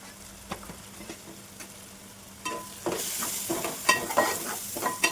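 Spices for fish biryani are stirred in a hot pan with rhythmic scraping and clinks over a steady sizzle that grows louder midway, with no talk.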